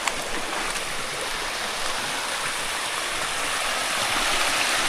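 Water runs from a garden hose while feet are washed outdoors after a hailstorm, a loud continuous rushing splash that holds steady for about five seconds with no voices.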